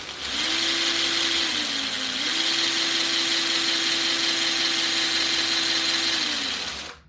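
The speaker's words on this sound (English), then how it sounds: "You can hear the motor really about the same as the gears." A small fan's electric motor and gears spin up and hold a steady whirring hum with a faint whine for several seconds, then wind down; the fan is a compact 3D-printed 'Stubby Fan' drone-power design.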